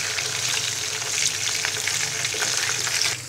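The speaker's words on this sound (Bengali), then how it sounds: "ইলিশ মাছের টুকরোগুলো এপিট ওপিট ব্রাউন কালার করে ভেজে নিব" Hilsa fish pieces fry in hot oil, a loud, dense, continuous sizzle with crackling spatters, close and steady throughout with no voices.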